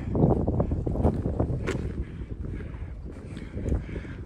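Steady wind buffeting a microphone outdoors on the Piney River Sugarloaf Trail in Shenandoah National Park, a low rumbling roar with gusts rising and falling throughout.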